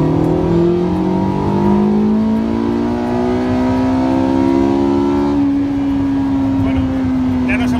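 A Porsche 918 Spyder accelerating hard on a road in the Netherlands, its engine note rising steadily through the gears from inside the cabin, loud and continuous with a brief shift near the end.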